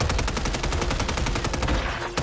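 Rapid automatic gunfire in Call of Duty rattles in a dense, loud, evenly spaced burst of shots that runs almost without pause before trailing off at the end.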